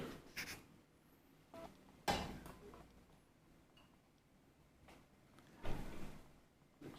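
An old Valmet traction elevator door in a Helsinki apartment building opens with a couple of short mechanical clunks and rattles. The sounds are separated by quiet room noise and come from nearby.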